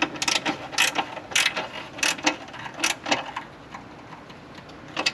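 A hand ratchet clicks in quick bursts while snugging the bolts of a carbon fiber engine bay cover on a C8 Corvette, close and crisp, with short pauses between the runs of clicks and no talking.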